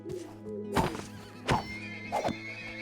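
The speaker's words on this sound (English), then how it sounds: "I found horses." Horses in Minecraft neigh and whinny in three loud separate bursts, with faint clip-clop and game sounds between them.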